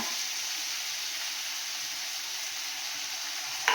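Garlic paste fries in a pan of oil alongside potato, onion and tomato, with salt and turmeric added. It gives a steady, close, continuous sizzle with no speech, and a brief clatter comes right at the end.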